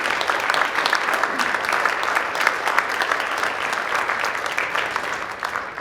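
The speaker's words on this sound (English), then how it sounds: "Let's give Mary King another round of applause" Sustained audience applause for Mary King at a keynote event on Gandhi's global legacy, a full, even wash of many hands clapping that holds steady for several seconds before tapering slightly.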